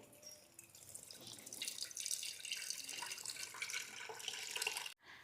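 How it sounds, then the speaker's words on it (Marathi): Water streams steadily into an electric kettle for several seconds, a soft continuous splashing and gurgle that stops abruptly near the end. "या इलेक्ट्रिक केटलमध्ये पाणी ओतून घेतेय"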